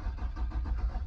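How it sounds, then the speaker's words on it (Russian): An Infiniti EX35 with a 3.5-litre fuel-injected engine cranks over and over without catching, a low rhythmic churning pulse heard close and fairly quiet. "Так, ну автомобиль не заводится."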